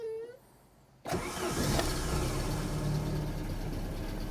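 Faint noise gives way to a Saab car engine, with the AC off, cranking and catching, then settling into a steady, rumbling idle up close.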